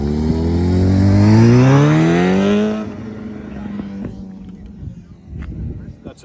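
A 750 motorcycle revving hard at roll races, a loud close engine note climbing steadily in pitch for nearly three seconds, then cutting off to a quieter idle with people talking nearby.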